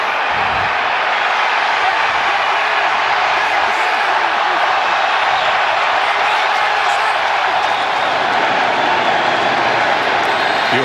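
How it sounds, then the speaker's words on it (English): Eagles fans in a packed FedEx Field stadium during an NFL game against the Redskins make a loud, dense, unbroken crowd roar that holds steady throughout. "You heard the crowd going crazy."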